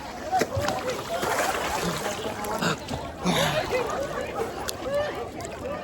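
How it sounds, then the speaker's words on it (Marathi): Splashing water as someone takes a dip in the Chandrabhaga river: a continuous loud, close rush and churn of disturbed water with voices talking over it throughout. "आता एक डुबकी मारून घेतो, पटकन चाललं जातो बाहेर."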